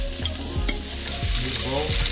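Beans dropped into hot cooking oil crackle and hiss loudly up close, with a few rhythmic stirring scrapes through the short burst.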